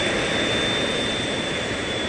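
The jet engines of a United 811 airliner in flight give a constant loud roar with a thin steady whine on top, heard alone with no voices.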